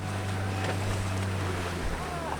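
A water taxi runs on the open sea near the San Blas islands, a low engine drone under wind and washing water, steady and close.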